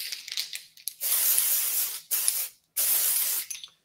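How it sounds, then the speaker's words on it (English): Dry shampoo aerosol sprayed onto a mannequin's washed hair near the roots: three close hissing bursts, the first long and the others shorter, with a brief pause before the last. "I just spray near the root and take it all the way down the hair shaft"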